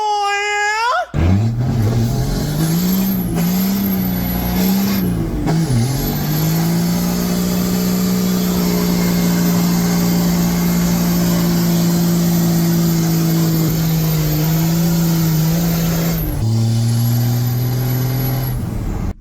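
An old Cummins-powered dump truck engine idling and revving, a loud steady diesel rumble that rises and falls with throttle blips, accompanied by a high whine and a brief hissing release near the start.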